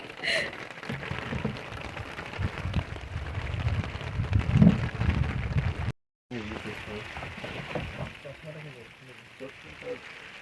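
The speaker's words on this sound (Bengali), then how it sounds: "আর বৃষ্টি শুরু হয়ে গেছে" Rain starting to fall around a boat in Raiganj, a steady broad patter on the water and hull, with people talking over it throughout and a brief dropout near the middle.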